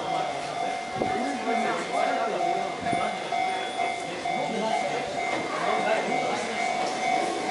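An Enoshima Electric Railway train rumbles steadily with a sustained electric hum and tonal whine, wheels clattering faintly as it pulls into Hase Station near Kamakura, Japan; muffled voices murmur underneath.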